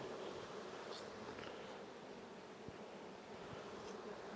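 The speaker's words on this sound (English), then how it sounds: "Bees all over my handle." Swarm of honey bees buzzing steadily around an open hive during a mite check, a dense continuous drone close by with individual bees passing near, no talking.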